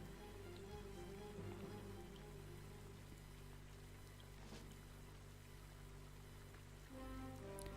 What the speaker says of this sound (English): Are the rain sounds from your mic and not the... or mic, not the soundtrack?